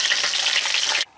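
Burbot fish pieces fry in a pan with a loud, bright, steady sizzle that stops abruptly after about a second, leaving near silence.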